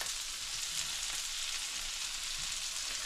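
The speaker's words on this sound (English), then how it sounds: "And I'm going to fry the schnitzel" Wild hog schnitzel fries in butter over a small gas burner, giving a steady, soft hiss of sizzling fat that stays even throughout without any talking.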